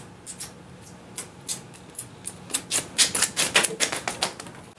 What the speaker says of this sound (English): they've got a sticker on here I'm going to peel off